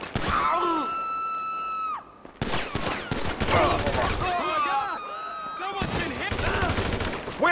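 Gunfire in the GTA 5 video game, bursts of rapid automatic shots broken by short pauses, loud and close, with shouting and groaning voices mixed in among the shooting.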